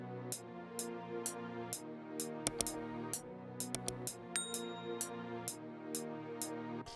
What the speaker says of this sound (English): I opened up Philharmonic and I chose the string orchestra preset